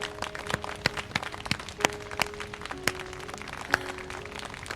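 Crowd applause in the Cosmo Canyon area of Final Fantasy 7 Rebirth, a steady patter of many hands with sharp individual claps popping out irregularly, moderately close and without talk.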